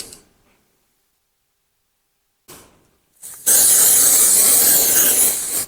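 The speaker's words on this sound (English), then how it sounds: "I'm just going to pop a bit of spray behind this" After near silence and a couple of short taps, an aerosol can of spray adhesive lets out a loud, continuous hiss lasting about two seconds, sprayed behind a carpet runner on a staircase.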